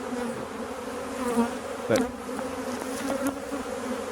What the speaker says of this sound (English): there's a fair few bees down there